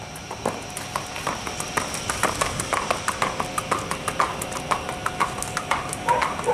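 A bay roan crossbred horse trots on firm ground, its hooves clip-clopping in a quick, even rhythm that stays close and clear throughout.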